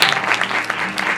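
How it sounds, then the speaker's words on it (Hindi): A brief burst of dense clapping from a church congregation at a sermon, loud and close, a crowd of hands rattling together for about a second. "अपने लिए जोरदार तालियां।"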